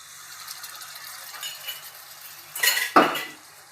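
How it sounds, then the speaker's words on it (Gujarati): A spoon stirs thick masala in a pot for urad dal. Soft scraping leads into a brief burst of metallic clinks and a sharp knock against the pot near the end, with no speech. "અને હલાવી લેશું આપણે સરસ રીતે."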